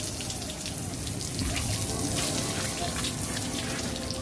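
Running water splashes steadily while rinsing produce outdoors in Bangkok, a continuous broadband wash of spray and trickle at close range, slightly louder in the middle, with no talking.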